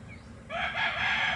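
Rooster crowing among chickens in a single short, loud, close crow that starts abruptly and holds bright and strained, over a low background murmur.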